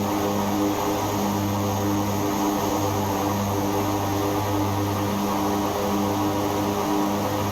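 A loud, steady aircraft engine drone in the X-Plane 11 flight simulator, a constant humming roar with strong low tones holding unchanged from start to finish, with no voices.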